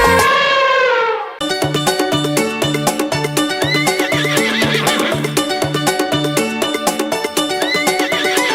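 A horse gives a loud, wavering neigh, then a bouncy children's nursery-rhyme tune with steady clip-clop hoofbeat percussion takes over and continues.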